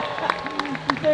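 An audience at a Comic Con Brussels panel with Power Rangers actors claps in brief, scattered bursts under a speaking voice, the applause light and close.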